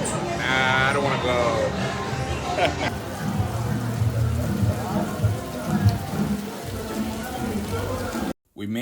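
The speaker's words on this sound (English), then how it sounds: "It started raining." Rain falls steadily on a street in Medellín, Colombia, a constant hiss under people talking close by.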